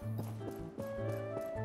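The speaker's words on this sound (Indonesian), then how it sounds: "Oke, ini ada kuda, kita bakal diem-diem." Horse hooves clip-clop in the survival video game Project Evo, a quick rhythmic run of hoof beats layered with tonal game sound, soft and steady throughout.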